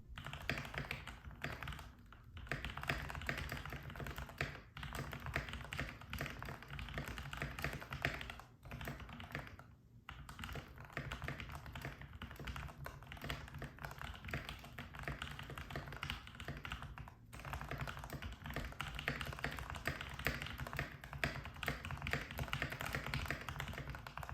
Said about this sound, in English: Now it's time for an actual typing test.